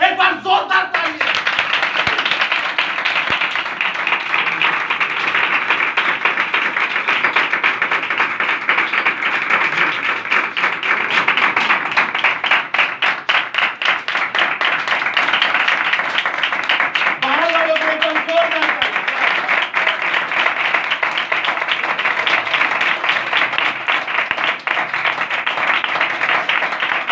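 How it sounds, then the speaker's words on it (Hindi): A large audience at a church sermon claps loudly and continuously, a dense steady roar of hands that holds for nearly half a minute, with a brief voice or tone rising through the middle. "एक बार जोरदार तालियां"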